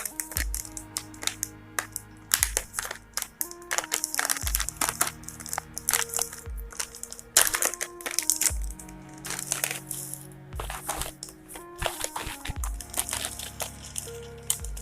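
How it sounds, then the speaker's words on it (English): A packet of light salted roasted peanuts is torn open and handled, giving close, sharp crinkling and crackling of the wrapper in irregular bursts, with a low musical backing beneath. "So now let me open the roasted peanut"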